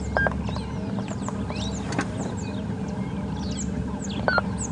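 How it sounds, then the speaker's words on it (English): Dawn birdsong on a safari drive at Djuma Game Reserve blends blue waxbills, brown-headed parrots and ring-necked doves: varied chirps, whistles and trills rise over a steady low hum, moderately close and overlapping without pause. "some brown-headed parrots, lots of ring-necked doves, black-crowned chagras"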